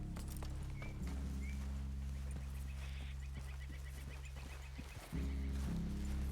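Horses in Red Dead Redemption 2 move with soft, scattered hoof clops and shuffles over a low steady hum, fairly quiet, with a small lull before a louder swell near the end.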